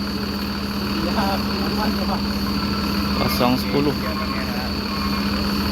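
A Mercedes-Benz 1623 front-engine bus idles with a steady, droning engine hum, while someone talks over it close by.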